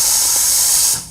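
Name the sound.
steam wand purging on Lavazza Blue LB4724 capsule machine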